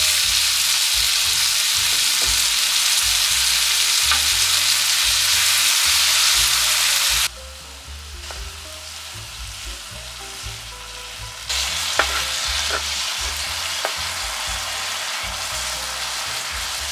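Kimchi, green onion, garlic and chili stir-fry in rendered meat fat with a loud, dense sizzle. It dips quieter midway, then swells again, with occasional spatula scrapes.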